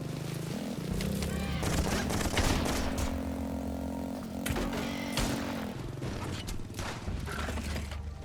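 Shotgun blasts in the video game Laika: Aged Through Blood, heavy booming shots layered over a loud, continuous mechanical and musical game soundscape.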